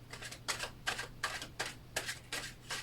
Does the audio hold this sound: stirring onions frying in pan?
no